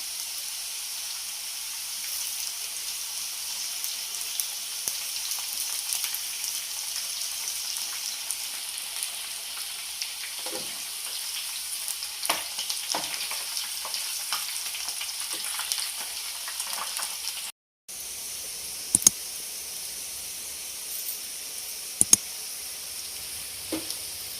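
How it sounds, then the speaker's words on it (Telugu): Onion pakoda frying in hot oil, a steady, faint crackling sizzle that runs on without break, with a few sharper pops and a brief dropout near the end, no voices. "బాగా వేడైందండి ఆయిల్. ఇలాగే వేసుకుందాం."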